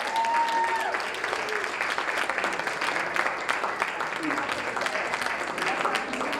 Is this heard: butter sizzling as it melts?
no